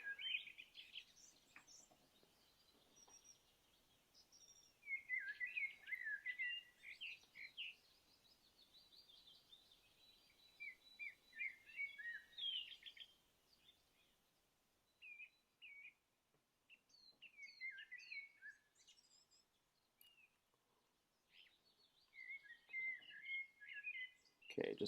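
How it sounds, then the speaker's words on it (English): Faint birdsong outdoors, scattered chirps and twittering phrases arriving in intermittent bursts with quiet gaps between, soft and somewhat distant. "I might take out or lower the sound for the birds chirping in the background."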